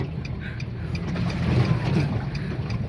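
Floodwater sloshes and slaps against a car's body as it drives through a flooded road in Purwodadi, a continuous close rushing wash with low churning surges that swell toward the middle.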